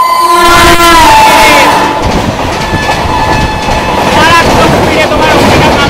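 Garib Rath Express 12518, running from Guwahati to Kolkata, passes Kalna station at speed with a loud continuous rumble and clatter of wagons, high horn-like tones over the top, and crowd noise on the platform.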